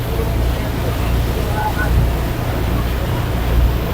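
A tour boat on the river in Ho Chi Minh City fills the scene with a constant loud engine rumble and wash of water, steady throughout with no breaks.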